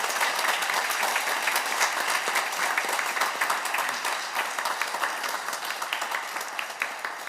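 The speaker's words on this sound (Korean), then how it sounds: "우리 뜨겁게 목사님 가족 박수로 환영해 주시면 감사하겠습니다." Church congregation clapping warmly to welcome the pastor's family during a Sunday service; sustained, even applause from a roomful of people that gently tapers off.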